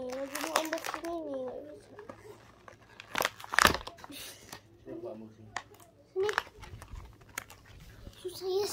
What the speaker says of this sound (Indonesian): Lagi unboxing nih.